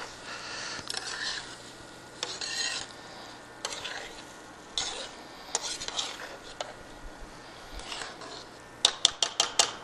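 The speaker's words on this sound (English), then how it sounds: "Give that a quick stir." A spoon stirs rice and cream in a pan, making soft scraping swishes at irregular intervals, with a quick run of sharp metallic taps on the pan at the end.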